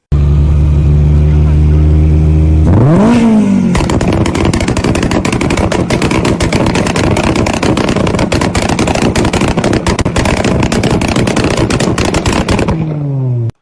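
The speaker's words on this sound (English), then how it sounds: "Supra versus Integra. Who's better at two-stepping?" Boosted Toyota Supra and Honda Integra two-stepping: an engine revs up, then a loud, rapid, machine-gun-like stream of exhaust pops and bangs runs for about ten seconds before tapering off.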